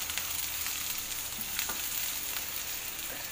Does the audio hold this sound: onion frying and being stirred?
yes